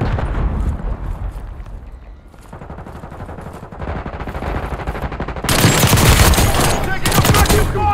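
Rapid automatic gunfire from a turret in a video game, starting moderate and becoming a loud, dense burst of continuous shots in the second half.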